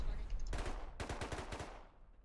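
Rapid bursts of automatic gunfire in the survival video game Rust, two quick strings of shots that fade out, heard faintly at a distance.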